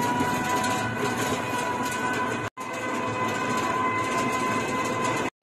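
A passenger train runs steadily, heard from inside a carriage as a loud continuous rumble and rattle with a brief cut midway, no voices.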